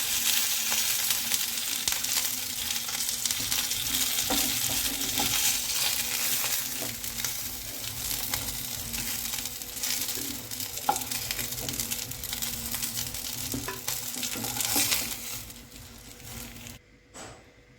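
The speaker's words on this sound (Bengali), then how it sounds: "উল্টে দিচ্ছি অন্য সাইডটা ভেজে নেওয়ার জন্য" Bhola fish frying in oil in a wok, a loud close sizzle with steady crackle and occasional sharper spits, tapering off and quieting near the end.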